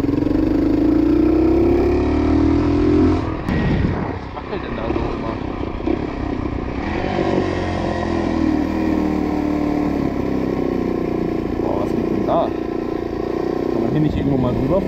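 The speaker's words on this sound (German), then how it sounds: "Wenn man runterschaltet, gibt die sogar ein bisschen Fehlzündung." Motorcycle engine runs and revs loudly throughout, with a deep throbbing tone and a few sharp pops from backfiring on downshifts, while someone talks over it.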